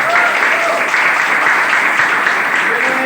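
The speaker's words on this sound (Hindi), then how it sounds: "सब के लिए जोरदार तालियां।" An audience at a recognition event applauding, a loud, sustained burst of many hands clapping at once, with a few faint voices or cheers mixed in.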